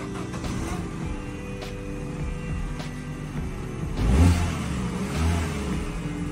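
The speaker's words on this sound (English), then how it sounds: "I'm going to switch off and start the car." Peugeot 308 engine idling with a steady mid-pitched hum, then a brief rev swells before settling back to a smooth run, heard close and alone.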